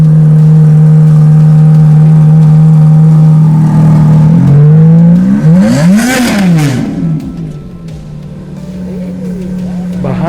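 A Ferrari F430's 4.3-liter V8 idles with a steady hum, then revs in rising and falling sweeps that peak loudly mid-way before settling, with a voice talking over it.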